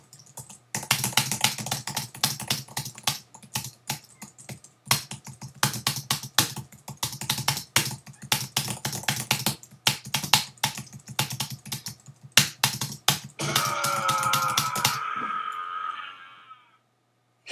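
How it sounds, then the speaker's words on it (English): Rapid, uneven bursts of typing clatter on a computer keyboard, with dense clusters of sharp key clicks separated by short pauses, ending in a brief sustained burst of noise before falling quiet. "Just rocking out on my keyboard."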